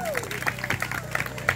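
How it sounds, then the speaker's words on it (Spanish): Audience at a lively dance-contest show clapping and cheering, a short burst of applause mixed with crowd babble and a voice talking over it. "Fuerte el aplauso."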